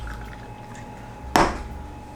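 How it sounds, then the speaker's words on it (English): Leftover IPA beer is poured from a can into a glass in one short, close splash and fizzing burst that fades quickly after a quiet start. "I'm kind of curious if I stir up the rest of the can and pour it in"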